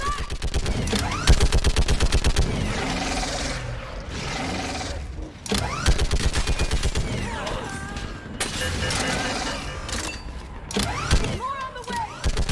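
Sustained gunfire in the sci-fi shooter Mass Effect 3 during a battle on a bridge, rapid machine-gun rattles broken by short pauses, loud and close, with mechanical creaks and whines and shouted voices mixed in.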